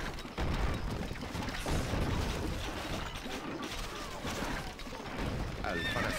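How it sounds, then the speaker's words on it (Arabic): A horse neighs and whinnies amid a dense, noisy soundscape in the video game Stronghold: Crusader, with voices speaking over it and some clattering in the background. "الحصان سريع."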